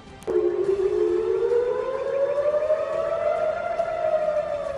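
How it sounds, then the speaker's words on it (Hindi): A loud air raid siren in Israel starts abruptly and winds up in a long, slowly rising wail that holds steady, heard alone. "इजराइल में अचानक सायरन बजता है।"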